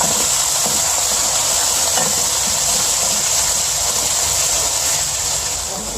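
Onions with ginger-garlic paste fry in a pan for an arvi masala, giving a loud, steady hiss of sizzling that holds evenly throughout with no voices.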